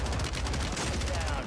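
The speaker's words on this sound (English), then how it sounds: "A nice shotgun. Good kill." Shotgun blasts in Call of Duty Warzone on Rebirth Island, heard as a dense, loud burst of gunfire layered with other game noise across a short stretch, no talk.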